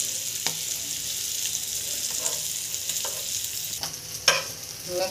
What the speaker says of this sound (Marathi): छोटे चमच्याने अशी एकसारखी आलटी पलटी करत राहायचं।